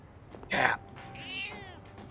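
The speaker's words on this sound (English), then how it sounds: "Cat." A cat in the video game Persona 3 Reload gives a single short meow, followed by a softer, drawn-out mew over a quiet background.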